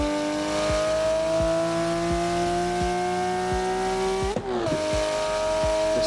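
A Porsche 992 GT3 RS in Assetto Corsa climbs steadily through the revs with a loud, high, continuous engine howl, cut by a sharp gearshift near the end before the tone climbs again, no talking.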